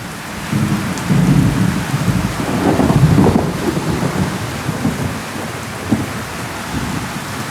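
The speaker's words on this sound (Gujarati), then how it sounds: "વરસાદ હજી પણ ચાલુ જ છે" Heavy unseasonal rain drums steadily on a metal sheet roof while a low thunder rumble swells and fades, loud and close, with no voices.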